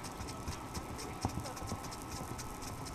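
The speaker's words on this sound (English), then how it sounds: "Beautiful horse." Horse hooves clip-clop in an uneven rhythm on a hard surface, fairly close, with faint background voices.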